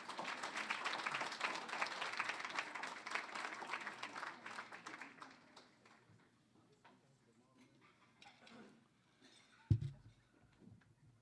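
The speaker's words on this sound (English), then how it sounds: "please give another big round of applause for the Simon and Nancy Anderson family" Audience applause fills a university alumni awards ceremony honoring a family, dense clapping for about five seconds before fading to sparse claps and room quiet.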